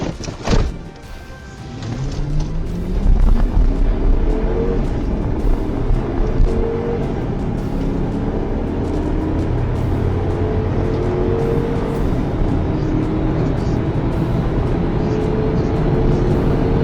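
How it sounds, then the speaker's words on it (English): A car in a high-speed police pursuit accelerates hard and flees, its loud engine roar rising and holding steady with rushing road and wind noise throughout, heard from close by. "At that moment, the driver suddenly accelerated and fled. A high-speed pursuit was immediately initiated."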